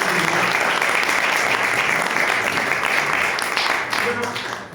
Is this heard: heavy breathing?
no